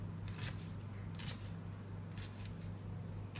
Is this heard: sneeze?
no